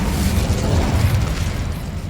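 An Incendio fire spell goes off in Hogwarts Legacy, a loud, dense rumbling whoosh of flame that fills the whole moment with steady roaring noise.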